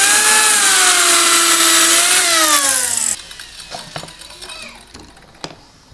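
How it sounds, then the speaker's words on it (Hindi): A handheld cutter machine whines loudly while cutting half-inch plywood to make a moulding-cutting stand, its pitch dipping under load for about three seconds, then stopping abruptly, followed by quieter clicks and handling of wood. "तो अब जो हम कटिंग करने वाले हैं हमारा आधे इंच वाली प्लाई है, इसकी टक्कर की हम कटिंग करने वाले हैं"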